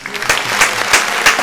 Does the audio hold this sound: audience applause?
yes